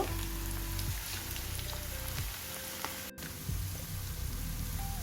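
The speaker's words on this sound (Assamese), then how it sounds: "ধুনীয়াকৈ ভাজি হ'ব দিব" Cauliflower balls deep-frying in hot oil for gobi manchurian, a steady dense crackle and sizzle filling the whole stretch, close and even, with no one talking.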